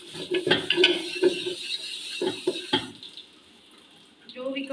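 Dishes being scrubbed by hand with running water in a home kitchen: clattering utensils, scraping and splashing in uneven bursts, close and fairly loud, followed by a quieter stretch with a brief voice near the end.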